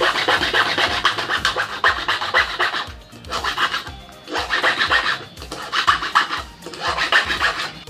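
A Honda Beat key blank is being filed by hand, close up. Loud, rhythmic rasping strokes come in bursts, with brief pauses between sets of strokes and no talking.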